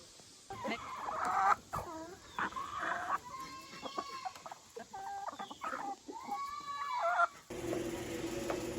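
Chickens cluck and call in repeated bursts close by at a farm chicken coop, with other farm birds around and no one talking.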